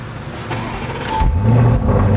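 A Lamborghini Urus engine fires up, a brief starter whirr giving way to a loud, deep rising rumble as it catches and settles, heard close from inside the SUV with no speech.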